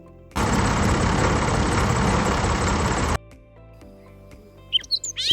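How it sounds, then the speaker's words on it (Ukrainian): A loud, steady tractor engine rumble runs for about three seconds, then cuts off abruptly, leaving quiet background with a few bird chirps. "наприклад, трактор"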